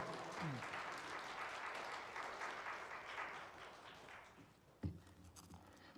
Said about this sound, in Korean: 우리 양영필 선교사님 나올 때 우리 박수로 할렐루야 하고 박수를 맞이하겠습니다